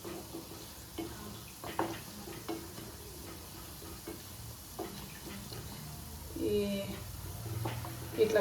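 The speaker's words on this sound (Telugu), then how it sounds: "ఇప్పుడు హై ఫ్లేమ్లో పెట్టుకొని కొద్దిసేపు మంచిగా ఫ్రై చేసుకుందాము." Gulab jamun frying in oil on a high flame, a steady soft sizzle with occasional stirring clinks and scrapes, closer and louder bubbling toward the end.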